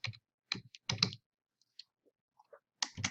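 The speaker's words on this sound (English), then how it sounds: "Here you're going to type in your project name." Quiet, sparse keystrokes on a computer keyboard, a few separate clicks and short bursts with silent gaps between them.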